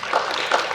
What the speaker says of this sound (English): golf clap for Canaan 3